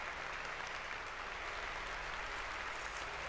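Steady, dense applause from a crowd fills the whole moment in the video game Virginia, even and unbroken throughout.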